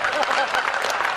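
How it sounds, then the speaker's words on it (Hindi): Brief, thin applause from an audience at a comic poetry recital in Bhopal, a short patch of scattered clapping lasting about a second with no one speaking over it. "तालियां बहुत कमजोर हैं आपकी"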